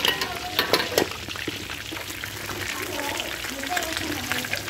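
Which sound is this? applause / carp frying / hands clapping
carp frying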